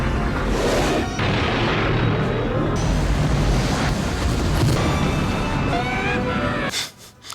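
The Death Star explodes in a Star Wars film, a loud roaring rumble with rushing, wind-like noise that swells and then drops away abruptly.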